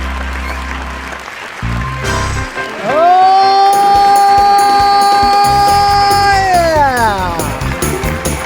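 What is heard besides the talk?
studio audience applauding and cheering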